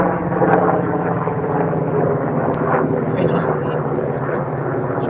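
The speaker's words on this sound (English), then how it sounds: "Chopper." A helicopter flying overhead at dusk in Tucson, Arizona, a loud continuous rotor drone that stays steady through the stretch, with people talking underneath.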